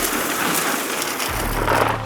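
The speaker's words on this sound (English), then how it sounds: "It's a rainy day, as you can see" Steady rain falls outdoors beside a Weber Searwood pellet grill, a dense continuous hiss with a low rumble joining partway through, with no talking.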